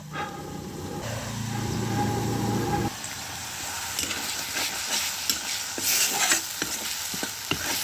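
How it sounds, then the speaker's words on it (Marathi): Stuffed bell peppers fry in oil over a wood-fired stove, a close, crackling sizzle that drops back after a few seconds to softer frying with scattered spatters and stirring clicks. "मी काय करते, मस्त तेलामध्ये फ्राय करून घेते"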